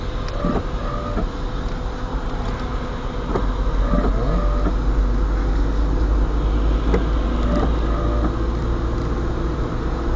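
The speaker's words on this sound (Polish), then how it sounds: "Słyszy pani, jak wyje silnik?" A car's engine drones and whines steadily inside the cabin during a driving lesson, a close, continuous low hum that rises slightly midway, with no one speaking over it.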